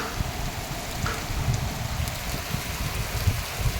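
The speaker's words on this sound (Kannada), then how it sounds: "ಈಗ ಮಳೆ ನೋಡಿ ಎಂಥ ಮಳೆ ನೋಡಿ" Heavy cyclone rain pours steadily throughout, a dense broadband hiss with low rumbling patter, close and loud, no voices.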